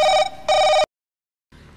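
A telephone bell rings in two loud, close bursts with a short gap between them, then cuts to silence before a faint hiss returns.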